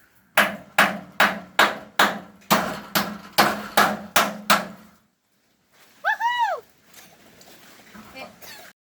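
A hammer pounds away in about eleven steady, loud, evenly spaced blows while a household in Jamaica prepares for Hurricane Melissa. A brief voice-like sound and quieter noise follow after a pause.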